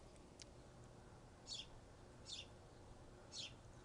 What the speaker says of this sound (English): So there's the birds chirping again.